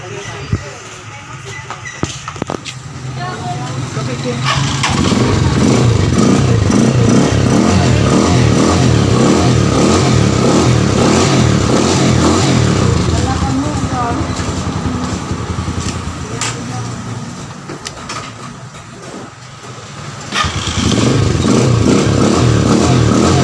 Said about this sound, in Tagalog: Tapos, itesting na natin yung motor.